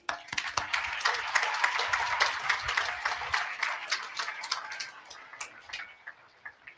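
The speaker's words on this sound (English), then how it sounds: "So let's give them a hand" Audience at a high school graduation ceremony applauding, a dense burst of claps that thins out and fades toward the end.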